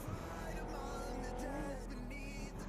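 Car tires skidding and squealing in a battle-royale shooter game while driving on a slippery surface, a faint rising whine of engine and tire screech over steady background noise, with no talking.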